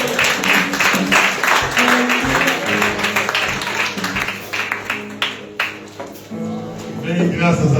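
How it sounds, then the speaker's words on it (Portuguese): Congregation applause welcoming Pastor Francisco at an ADTG Portugal church service, a sustained wash of clapping throughout, mixed with voices and music. "Vamos receber o pastor Francisco com as palmas em nome de Jesus"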